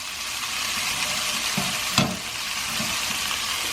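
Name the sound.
broccoli hazelnut soba noodles stir-frying on high heat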